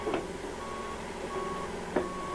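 Two evenly spaced electronic reversing beeps sound from a John Deere H-Series crawler dozer backing onto a trailer, moderately loud over a steady engine rumble.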